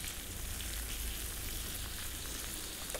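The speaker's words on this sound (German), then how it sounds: "Und dann kann die hier schön nebendran ein bisschen brutzeln." Flounder caught on the Baltic coast fries in a pan with a steady, dense sizzle and crackle, close and continuous without talk.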